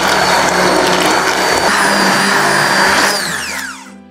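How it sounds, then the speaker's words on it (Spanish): An electric hand blender whirs loudly as it mixes a lemon tart filling of egg yolks, condensed milk, lemon zest and juice. The motor hums steadily with a gritty mechanical texture and then winds down as it is switched off. "Mezclo todo bien con la batidora."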